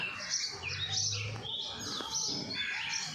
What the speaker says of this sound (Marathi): पक्ष्यांचा किलबिलाट आहे एकदम